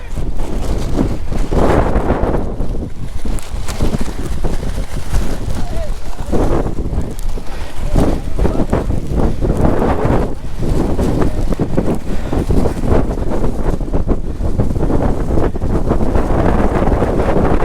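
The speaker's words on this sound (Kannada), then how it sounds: "ಇವಾಗ ಸ್ವಲ್ಪ ಕಷ್ಟ, ಯಾಕಂದರೆ ಗಾಳಿ ಹಿಂಗೆ ಹೋಗ್ತೈತೆ" Strong wind buffets the microphone during a motorbike ride through rainy Chikmagalur in monsoon season, a loud, continuous, rumbling roar that swells and eases without pause for the whole stretch.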